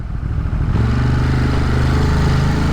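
Ducati motorcycle on a Brooklyn ride, engine droning loud and steady, with a brief clipped change partway through as the quick shifter pops it into second gear, then a fuller, even roar.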